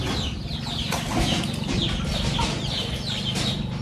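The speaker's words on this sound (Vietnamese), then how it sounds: "Bây giờ ngó con gà kìa." A farmyard chicken clucks repeatedly in short, irregular bursts close by, with faint rustling and background noise around it at a rural home in Dak Lak.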